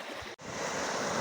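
Floodwater rushes over a submerged bridge during heavy rain in Lushala village, Gujarat, a continuous broadband roar with a brief dropout early on.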